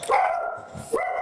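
A pet dog gives two sharp, close barks with a brief pause between them, loud and clear with no talking over them.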